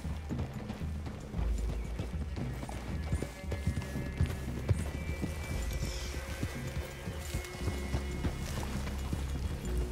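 Rhythmic clip-clop of horse hooves in the video game Red Dead Redemption 2, fairly quiet and steady throughout, with faint ambient outdoor sound and a hint of a snort.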